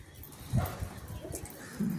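Pigeons coo softly in a brief, faint burst, a few low throaty coos spaced close together.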